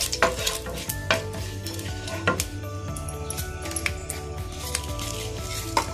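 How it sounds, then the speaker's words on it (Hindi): Cumin seeds roasting in oil in a pan for an eggplant curry give a soft sizzle under repeated stirring scrapes and metallic clinks of a spoon against the pan, with a faint steady background tone and no talk. "हम 1 छोटा चम्मच जीरा ऐड करेंगे। और इसे अच्छे से आधे मिनट तक भून लेंगे।"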